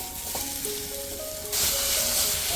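Onion and pineapple frying in a pan for a pineapple chicken roast, a steady close sizzle that grows louder and brighter halfway through as more goes in, with faint tonal clinks over it.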